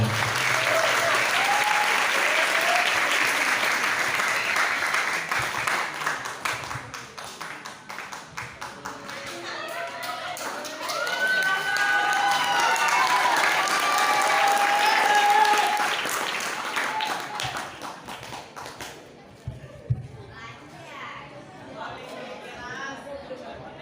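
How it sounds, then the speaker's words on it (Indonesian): A seminar crowd applauds loudly for several seconds, the clapping thinning out and fading, with voices chattering underneath and a few scattered claps at the end. "Tepuk tangan untuk beliau."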